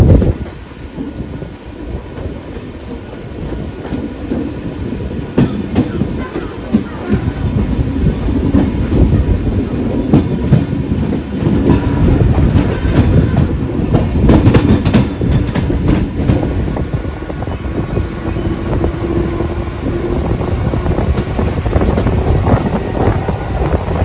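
Diva–Chiplun MEMU train running on rails in the Konkan region, a loud continuous rumble with rattling wheel clatter and buffeting wind, heard from aboard for the whole stretch without speech.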